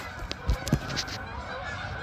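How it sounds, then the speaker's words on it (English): Geese flying overhead give a few distinct honks spread across a couple of seconds, moderately near, over an outdoor background hum with no talking. "There's birds going over."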